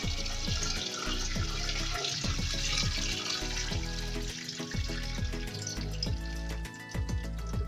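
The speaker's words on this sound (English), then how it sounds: "You run it in cold water to make sure it does not continue cooking." Cold tap water runs steadily over cooked rice in a kitchen sink, a continuous close splashing rush with faint clinks, no voices.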